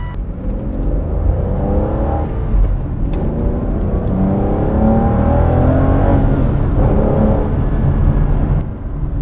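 A loud Aston Martin DB9 engine with a manual gearbox revs and roars continuously, the pitch rising and falling as it accelerates, heard from inside or very near the car.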